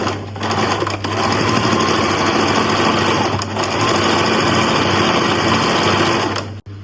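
A sewing machine stitches the front and back of a cotton peplum top together, running in a steady loud continuous whir for several seconds before stopping abruptly, with no talking.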